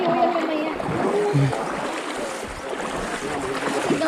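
Water splashes and churns nearby as someone wades through a river, with voices talking over the steady swishing.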